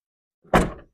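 A single solid door thunk, with a brief rattle as it settles, comes from a silver 2004 Isuzu Panther LM being shut up close after a moment of silence.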